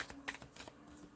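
Tarot cards riffle and flutter in a quick, soft shuffle, with several crisp slaps over about a second, close and quiet.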